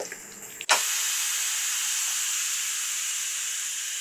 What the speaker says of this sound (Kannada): ನಾನು ಸ್ವಲ್ಪ ವಿಸಿಲ್ ತೆಗಿತಾ ಇದ್ದೀನಿ ಈಗ ಬೇಗ ಆಗಲಿ ಅಂತ